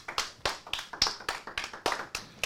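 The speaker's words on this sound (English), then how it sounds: "give him a round of applause" A short round of applause for Irving between game rounds: a small group clapping in quick, slightly uneven bursts, close and clear, with no talk over it.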